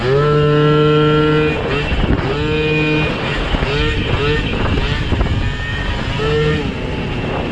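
A 1988 Honda Tact scooter's small engine revs hard and climbs toward top speed, a loud buzzing whine that rises and drops through several throttle pulls, with wind noise over the microphone.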